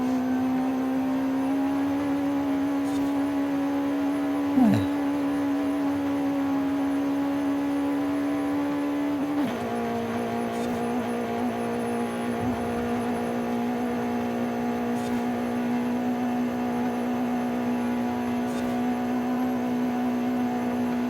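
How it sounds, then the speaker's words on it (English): Car engine in the racing video game Forza Horizon 5, a steady loud droning hum with brief pitch dips and shifts, running continuously without talk. "Sometimes I just like to hear the car load, revving."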